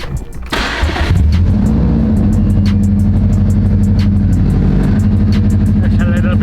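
A car fitted with a Grimspeed exhaust, running with a three-inch gap between the catback and the downpipe, fires up and settles into a loud, steady, rumbling idle. It is close and harsh, and nobody speaks.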